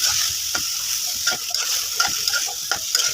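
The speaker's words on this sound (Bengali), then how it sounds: "দেখুন আমি ভালোভাবে নেড়ে দিচ্ছি আলু কুচি।" Chopped potato stirred through masala frying in a pan for a catfish curry, with a steady hiss of frying and scrapes of the spatula recurring every half second or so, close and moderately loud.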